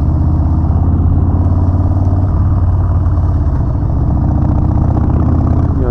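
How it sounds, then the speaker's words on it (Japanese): A Harley-Davidson motorcycle engine runs steadily at riding speed on a mountain road, a loud, continuous low rumble with rhythmic clatter and no voices over it. "調子いいバイク。"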